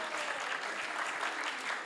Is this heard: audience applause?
yes